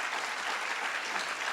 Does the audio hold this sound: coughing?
no